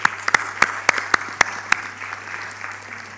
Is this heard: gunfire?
no